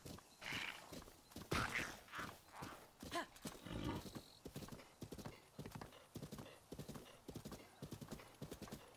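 Horse hooves clip-clop in Breath of the Wild, a close, busy rhythmic trot lasting throughout, with a brief whinny-like burst early and faint talk underneath.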